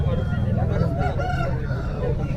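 A rooster crows at a Friday hen market in Krishnagiri, Tamil Nadu, its calls rising amid constant market chatter and clucking fowl close by.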